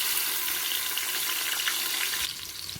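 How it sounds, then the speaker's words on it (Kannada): Onions sizzle in hot oil inside a pressure cooker, a steady, bright hiss that fills the whole stretch and drops slightly in level near the end. "ಎಣ್ಣೆ ಕಾದಿದೆ, ಈರುಳ್ಳಿ ಒಗ್ಗರಣೆ ಹಾಕ್ಕೊಳ್ಳಿ"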